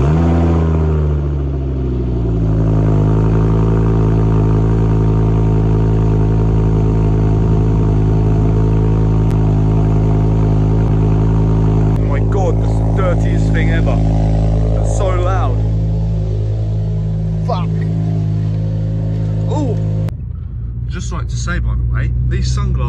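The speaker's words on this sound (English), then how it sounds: "that's a cold start of the car" A straight-piped Ford Focus ST cold starts with a loud, steady, deep exhaust rumble that idles high and slowly settles, with a brief dip near the end, while people talk nearby over the engine.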